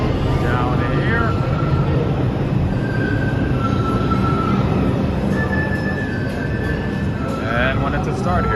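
A New York subway train in the underground Times Square station, a loud continuous rumble of cars and wheels with high metallic squeals rising near the start and end, while someone talks over it.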